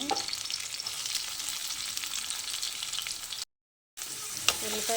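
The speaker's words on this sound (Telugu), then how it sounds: "ఉల్లిపాయలు వేసేసుకొని బాగా మగ్గనివ్వాలి ఉల్లిపాయలు" Onions frying in oil in a pan for a mutton curry, a steady dense sizzle with light stirring clatter, broken by a brief silent gap before the crackle resumes, with one sharp tick near the end.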